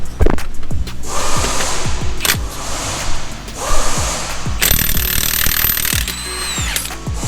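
A cordless power tool, drill-like, works on the engine of an Acura TL Type-S during an oil leak reseal, giving repeated short whirring bursts and ratcheting clicks up close, with no talk.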